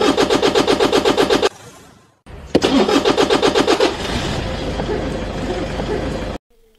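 A car starter motor cranks in rapid rhythmic pulses, pauses, cranks again, then the engine catches and runs briefly before cutting off.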